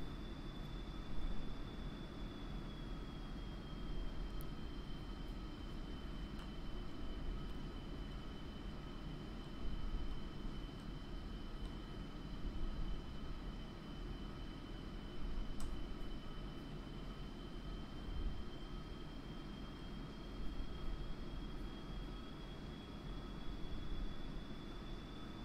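A JF-17 Thunder jet taxis in the DCS flight simulator, a steady engine whine and broad rumble holding constant throughout with no speech.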